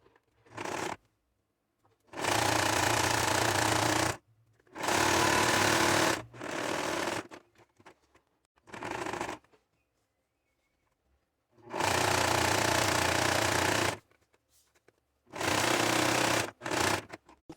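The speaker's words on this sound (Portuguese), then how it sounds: "Aqui na máquina eu vou usar o ponto reto na largura, tensão e comprimento número 3." Domestic sewing machine running a straight stitch on waterproof fabric for a pouch, several bursts of rapid mechanical stitching of varying length with silent gaps, close and loud.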